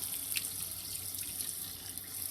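Tap water running from a faucet into a sourdough starter, a soft steady hiss and trickle heard close up and fairly quiet, alone without talking.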